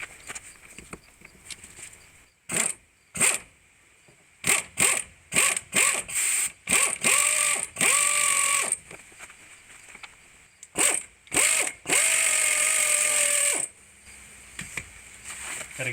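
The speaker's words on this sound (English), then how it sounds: "Suppose I might as well get my air ratchet." An air ratchet works on a Subaru wheel bearing job in short, sharp bursts of buzzing rattle, some brief and some held for a second or two, separated by quiet pauses, close and fairly loud.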